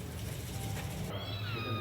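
Stray cats at a shelter housing more than a hundred animals meow over a steady background murmur, with one clear drawn-out cry in the second half.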